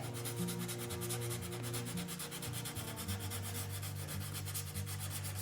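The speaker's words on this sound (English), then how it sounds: "So we're just gonna gently, instead of roughly, sand the area again." Painted high-gloss furniture is hand-sanded gently in steady back-and-forth strokes, a continuous close, soft rasping rub with a regular rhythm.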